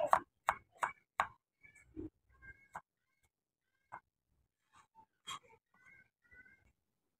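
A knife slices garlic cloves thinly on a board, giving a quick run of four crisp cuts followed by sparse, lighter taps and clicks in an otherwise quiet room.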